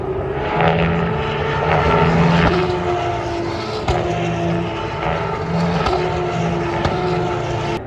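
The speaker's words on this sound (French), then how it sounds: "On va attendre le premier passage des voitures." Formula 2 race cars at the Spanish Grand Prix circuit, a steady loud engine roar with several cars droning past in overlapping waves, no talk heard.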